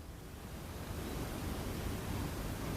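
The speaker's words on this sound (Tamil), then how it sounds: "இப்போ இறாலை நல்லா வதக்கி விடுங்க." Half a kilo of cleaned prawns fry in tomato masala in a pan, a brief, even broadband hiss of sizzling that holds steady and close, with no voices.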